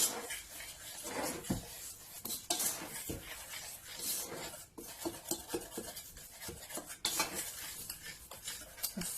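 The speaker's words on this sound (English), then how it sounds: "Now I'm putting in the dry ingredients, giving them a stir." Spoon stirring dry ingredients, including chufa flour, into vegan carrot cake muffin batter in a bowl, with steady scraping and clinking strokes at close range and no talking.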